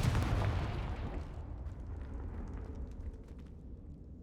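A Confringo fire spell goes off in the Hogwarts Legacy video game as one heavy, booming blast. The blast rumbles and fades slowly over several seconds, with no one talking.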